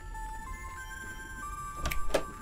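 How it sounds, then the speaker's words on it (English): A cell phone ringing inside the video game The Charnel House Trilogy, with steady electronic tones running throughout and a louder burst near the end. "I think the ringing's coming from in here."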